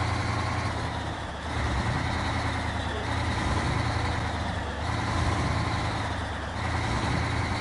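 A truck driving in the SnowRunner video game, a continuous loud droning engine rumble with slow swells in intensity and no talk.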